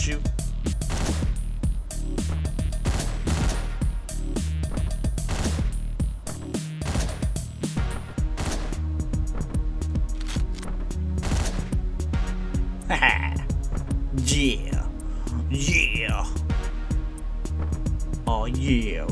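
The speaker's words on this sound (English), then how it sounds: "How did that guy not hear those gunshots, like, right next to him?" Rapid bursts of video game gunfire crackle almost nonstop, with a voice speaking intermittently over the shooting.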